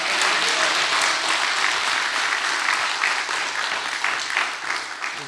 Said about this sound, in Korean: 하나님께 감사하여 영광의 박수 올려드리면 좋겠습니다.